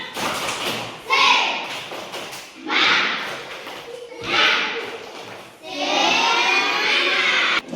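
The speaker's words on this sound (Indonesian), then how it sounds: "Tepuk semangat." Classroom of children doing a rhythmic clapping chant, with bursts of claps and young voices repeating in four pulsing phrases, fairly close and loud.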